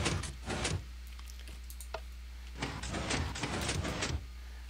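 A hidden vertical piston door in Minecraft moving, with two bursts of mechanical piston sliding and clunking separated by a quieter pause, heard over a steady low hum without talk.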